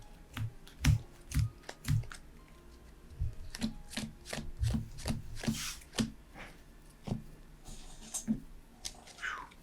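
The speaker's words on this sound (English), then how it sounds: "Give it one more shuffle and a cut here on my side." A deck of cards is shuffled and cut at a tabletop card game, giving a run of sharp, close riffling snaps and taps at an uneven rhythm with no talk.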